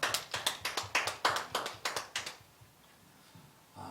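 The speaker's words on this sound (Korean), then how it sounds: "우리에게 은혜 주신 하나님께 영광의 박수 올려드리겠습니다" Church congregation clapping during a Sunday worship service, a burst of separate claps for about two seconds before it fades out, with no voices over it.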